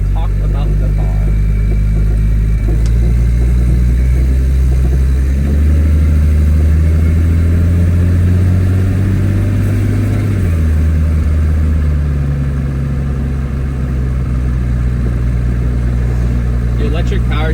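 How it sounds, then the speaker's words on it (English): Engine of an all-wheel-drive Toyota 2JZ-powered car idling and rumbling steadily in traffic, a low continuous drone with slight swells in revs, heard from inside the cabin while a person talks over it. "you guys get to see the car sit in traffic and me talk about the car"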